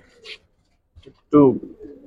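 Giribaz pigeons, an old breed kept in a loft, give a short soft call and then a louder, fuller coo, with a brief human voice between them.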